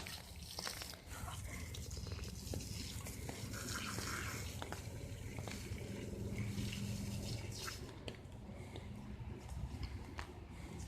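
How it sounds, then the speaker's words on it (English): Rain falls on an umbrella outdoors, a dense steady patter of drops with occasional sharper taps, faint and continuous throughout. "can hear the rain, guys. You can see the raindrops on the umbrella."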